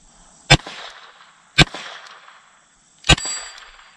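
Three sharp shots from a Smith & Wesson Model 53 revolver in 22 Rem Jet, fired double action at an 8-inch steel plate outdoors, each crack followed by a ringing metallic clang and a short trailing echo, spaced roughly a second or more apart.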